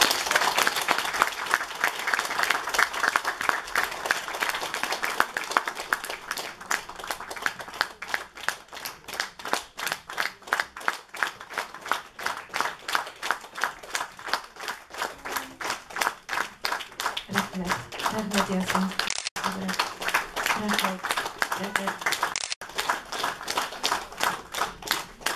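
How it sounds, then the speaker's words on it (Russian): An audience applauding at a concert by a singer and her ensemble: sustained clapping that settles into a rhythmic, evenly pulsed beat for over twenty seconds. Brief voices and a faint tone appear partway through. "Ваши аплодисменты."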